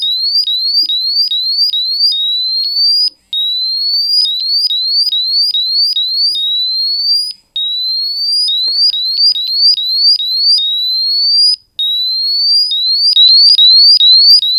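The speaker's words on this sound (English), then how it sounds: "I was able to watch and see that the alarms went off when they reached the target concentrations" Hydrogen sulfide gas monitors going off during a bump test, a loud, rapid electronic alarm of repeated rising chirps that carries on almost without a break, pausing only briefly a few times.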